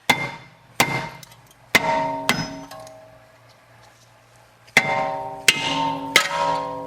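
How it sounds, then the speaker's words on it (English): Sharp metallic hammer strikes on a stuck brake rotor of an MK7 Volkswagen GTI ring out one at a time, roughly seven blows with pauses between them, each clang leaving a short ringing tail. "we're just going to hit with a hammer"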